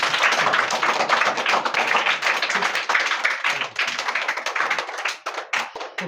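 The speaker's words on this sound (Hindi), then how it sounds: "ताली बजाओ इसके लिए।" Children in a classroom clap for a student, a dense burst of fast, uneven applause that thins out toward the end.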